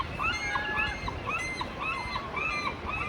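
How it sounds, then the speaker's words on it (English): Seagulls call repeatedly in overlapping cries, with ducks and other waterfowl also present, heard outdoors at Sitka, Alaska, near the water; a steady, fairly loud chorus of squawks over faint ambient noise. "Okay, seagulls, calm down."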